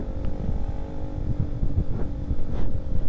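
A motorcycle riding a road near Situ Cisaat, Purwakarta, overtaking another vehicle; a steady rumbling engine with wind buffeting on the microphone, rising slightly as it passes.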